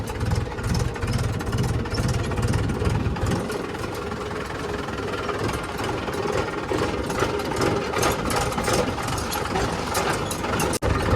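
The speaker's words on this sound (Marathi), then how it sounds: "पाहू शकता की ट्रॅक्टर जो आहे तर तो झटके मारत चालतो" A loud, rough farm tractor engine runs continuously up close while driven with the clutch held down, its rumble pulsing and knocking unevenly in jerky surges.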